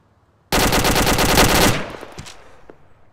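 Automatic gunfire in a video game erupts suddenly in a loud continuous burst lasting about a second, then cuts off, leaving a fading echo and a few faint clicks.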